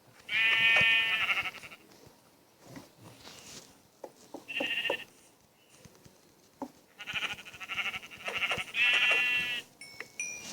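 Sheep in the video game Minecraft bleat in several loud, close bursts, with a couple of quieter calls between them and no talking.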